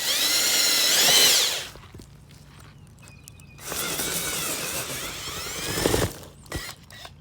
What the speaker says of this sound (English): So I'm going to go out about 6 inches from this point, butt up against the string with my auger bit.